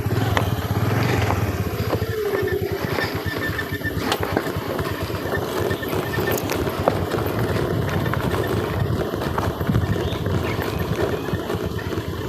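A motorcycle rides down a rough hill road with the rear brake held, its engine a steady loud rumble with bumps and rattles throughout.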